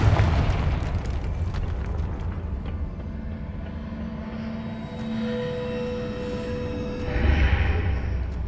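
A fiery Confringo spell blast in Hogwarts Legacy erupts as a sustained rumbling boom with crackling fire, a steady tonal hum running beneath it, and a second swelling burst near the end, with no speech over it.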